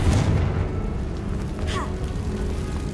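A Confringo spell blast in a video game: a deep booming rumble at the start that fades into a lingering low roar, with a brief swishing magical sweep partway through.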